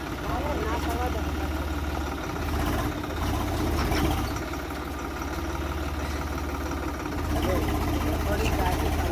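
A tractor engine runs with a steady low idling throb that dips briefly and picks back up, while people talk over it outdoors.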